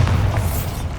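The Bombarda blasting spell in Hogwarts Legacy sets off a short, heavy explosion, a deep loud boom with a rumbling low-end burst lasting about a second.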